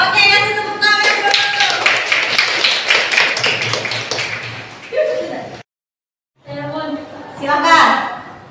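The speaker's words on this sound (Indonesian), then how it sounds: "kasih tepuk tangan dulu." A classroom of students in Indonesia breaks into sustained, dense clapping that fades out after several seconds, followed by a short silence and then scattered taps and voices.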